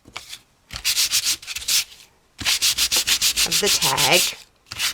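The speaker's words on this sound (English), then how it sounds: "I'm going to take my little handy dandy sander" Small handheld sander working over a paper craft tag, rapid rhythmic scratchy rubbing in short bursts with pauses between, close and loud, with a brief spoken phrase in the clip.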